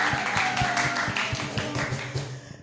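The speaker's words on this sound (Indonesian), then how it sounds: "Kasih tepuk tangan dulu dong." Church congregation claps at a Sunday service after a vow is affirmed, a loose run of fairly soft overlapping claps with some irregular louder taps, no voices.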